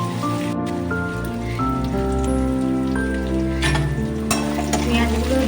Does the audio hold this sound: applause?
no